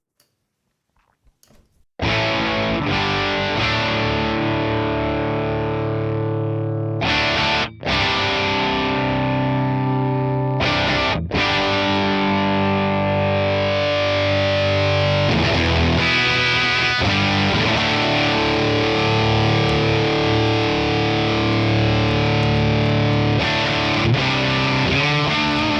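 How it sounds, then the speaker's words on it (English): Heavily saturated electric guitar through a HeadRush NAM amp model with the input cranked, giving a loud, dense, sustained distorted tone with chords ringing continuously and a brief break near the start. "By cranking the input way up, it goes into extreme saturation"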